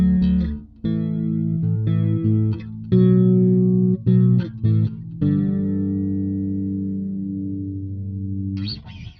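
Fender Jazz Bass run through an MXR M83 Bass Chorus Deluxe pedal set to a slow rate, playing a run of plucked notes and then a long ringing note with a gentle shimmering chorus swirl, close and steady.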